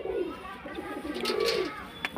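Old-breed Murshidabadi Giribaz pigeons cooing close by, a couple of soft throaty coos over faint background rustle, with no talk.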